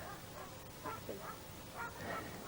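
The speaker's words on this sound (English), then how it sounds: "When we've muzzled the dog." A dog barking faintly and at a distance, a few short yips spread out over quiet outdoor background noise at a cycling club camp in Long Sutton, Hampshire.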